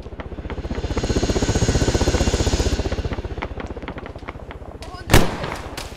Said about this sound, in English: They're firing with an MG from down there.